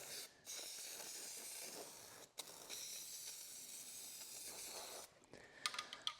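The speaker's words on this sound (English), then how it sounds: "I'm just going to take and very carefully spray some" A long, steady hiss of an aerosol can spraying adhesive into a 1967 Firebird center console, interrupted by a brief pause, then a few soft rattles at the end.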